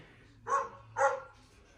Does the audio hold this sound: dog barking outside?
yes